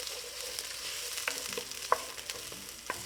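Onion sautés in a pan, a steady soft sizzle with a few light clicks of the spoon against the pan.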